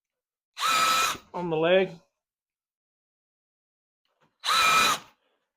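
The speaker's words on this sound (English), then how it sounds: "I just drill three holes" Two loud bursts from a power drill boring holes into the leg of a cedar planter, with a short burst of speech just after the first and a long quiet pause before the second.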